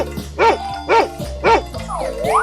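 A dog in a 3D animal video game barks three times in an even rhythm, loud and close, followed by a sweeping electronic game tone.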